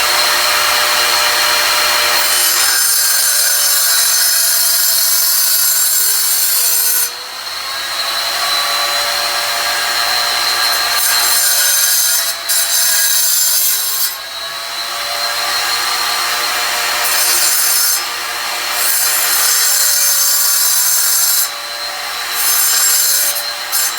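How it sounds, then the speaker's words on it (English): A wet tile saw used freehand as a grinder along the edge of a tile gives a loud, steady high-pitched whine and abrasive grind, rising and dipping in short bursts as the blade meets the edge, with no talking. "I'll take this saw up again, like so, and then I'm just going to freehand it, and I'm going to use it as a grinder"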